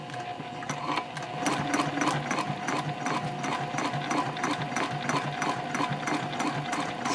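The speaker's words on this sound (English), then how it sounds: "And now I will sew down the other side." Sewing machine stitching down the side of a bowler bag along a curve, a fast steady mechanical chatter of repeated clicks, close and continuous without talk.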